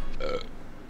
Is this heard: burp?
yes